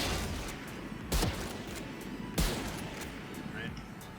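Scout sniper rifle in Valorant, two sharp single shots about a second apart, each a crisp crack with a short tail, over a low game ambience.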